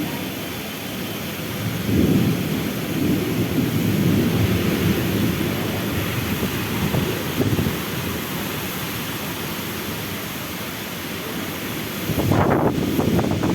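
Steady rain falls outside an open window as thunder rumbles low and long, with a second, later roll breaking in near the end; continuous hiss of the downpour throughout, no talking.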